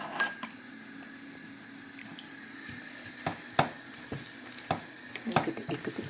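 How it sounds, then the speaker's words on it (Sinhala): Prawn curry with tomato being stirred in a frying pan: a low, steady sizzle under repeated sharp scrapes and clinks of a spoon against the pan, irregular and close. "මේකට එකතු කරලා හොඳින් කලවම් කරනවා."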